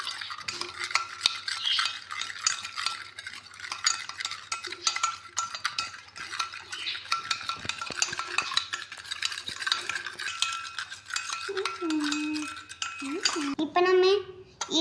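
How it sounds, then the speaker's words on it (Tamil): A spoon stirs a sugar-and-water bubble mixture in a container, with rapid, close scraping and clinking strokes repeating steadily. It ends in a few ringing, squeaky scrapes. "இப்போ நம்ம ஸ்பூனில் மிக்ஸ் பண்ணிக்கலாம் நல்லா."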